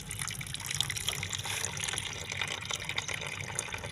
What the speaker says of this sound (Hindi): चलो मैं इधर पानी के टब में बैठकर अच्छे से नहा लेती हूँ।